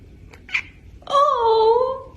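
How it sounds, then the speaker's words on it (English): A pet cat gives one drawn-out, clear meow close by after a brief rustle, with no talk over it. "Meow if you're pretty."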